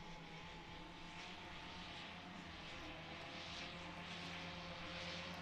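A slalom race aircraft's propeller engine drones in a steady, buzzing hum, distant and faint, holding constant throughout.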